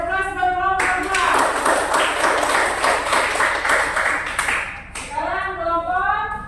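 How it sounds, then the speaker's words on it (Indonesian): Classroom applause for a student group, a burst of many hands clapping loudly for about four seconds, sandwiched between a teacher's speaking voice before and after. "kasih aplaus buat kelompok 2"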